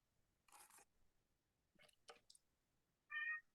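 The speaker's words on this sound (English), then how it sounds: "I hear a cat." A pet cat named Boots gives a single short, faint meow at the end, after a few soft scattered taps and rustles in a quiet room.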